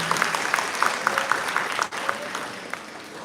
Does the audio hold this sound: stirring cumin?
no